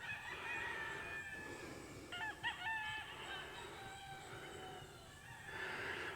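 Roosters crow at a ranch where they are tied to barrel houses, several overlapping cock-a-doodle-doo calls with some clucking, fairly distant and spread across an outdoor yard.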